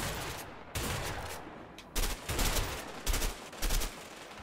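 Bursts of automatic gunfire in the game A Way Out crack out in several loud, rapid volleys separated by short gaps, close and harsh.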